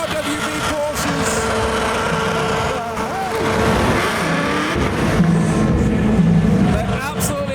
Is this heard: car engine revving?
yes